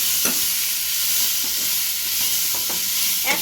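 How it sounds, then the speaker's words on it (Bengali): Mixed vegetables for oats khichuri being stirred in a pan, with a steady sizzling hiss under a few soft scraping strokes of the spoon, close by and with no talk. "এবার ভালো করে সবজিগুলোকে একসাথে নাড়াচাড়া করব।"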